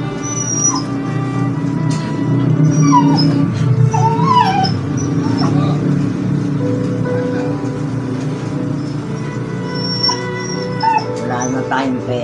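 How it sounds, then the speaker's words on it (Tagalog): A dog whimpers and yips in high, wavering cries and short squeals, close and fairly loud, in a house on a city street. People talk throughout and a car is faintly audible. "Yung aso."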